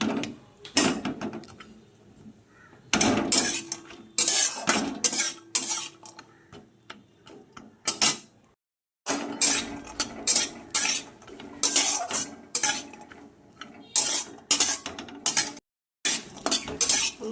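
Cashew nuts being fried in a pan for simui payesh, heard as repeated loud scraping and clinking of a metal spoon stirring against the pan in irregular bursts, with brief pauses.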